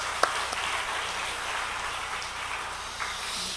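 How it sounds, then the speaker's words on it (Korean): A church congregation offers a round of thankful applause during a sermon on honoring parents, a moderate, even wash of clapping over a low hum, with a couple of sharper claps standing out. "감사의 박수 올려드리겠습니다."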